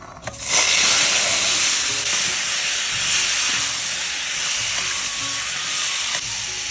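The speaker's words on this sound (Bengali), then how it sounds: "তেল গরম হয়ে গেছে, আর আমি কাঁকড়া মাছ কাটা দিয়ে দেবো" Cut crab pieces hit hot oil in a kadai for a spicy Bengali crab kosha, setting off a sudden loud hiss that settles into a dense, steady close-up sizzle.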